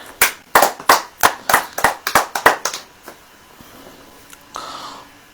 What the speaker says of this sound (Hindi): अब ताली बजाइए।